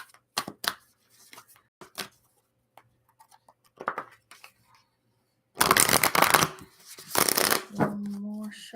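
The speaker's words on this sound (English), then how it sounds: "One more shuffle." A deck of oracle cards is shuffled up close in several quick riffling bursts, with brief pauses between them and a louder stretch of shuffling near the end.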